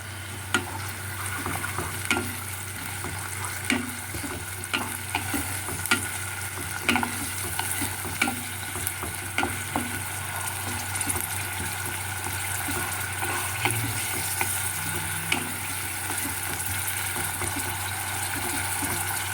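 Onion paste frying in oil in a pan for a Bengali wedding-style dish, a steady soft sizzle broken by regular stirring scrapes and small clinks repeating every second or so, with no one speaking.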